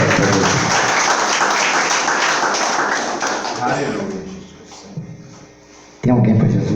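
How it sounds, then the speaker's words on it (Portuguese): A church congregation claps loudly together in a dense, sustained burst of applause that fades out near the end, then a voice speaks up loudly over the hall. "Batam palmas bem abertas a Deus."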